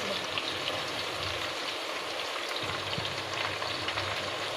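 Onions and chicken frying together in a pan, a steady hissing sizzle that runs unbroken throughout, close and even, with no voices over it.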